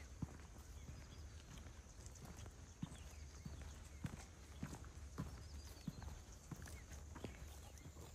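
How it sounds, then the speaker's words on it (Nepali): Cattle walk through Kuk Po, an old Hakka village in Hong Kong, their hooves clopping in a steady, fairly even rhythm of close knocks over a constant background hiss, with no talk. "कोप्पो भिलेजको गाईहरू।"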